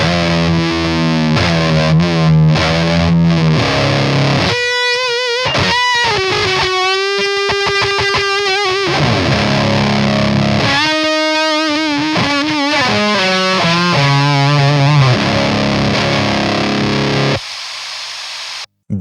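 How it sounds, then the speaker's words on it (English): Electric guitar played through a DoD Chthonic fuzz pedal with the fuzz set high into an H&K Triamp MKIII amp, giving loud, thick, saturated and noisy riffs and sustained notes that run steadily before cutting off near the end. "That is the DoD Chthonic fuzz with the fuzz turned up quite high."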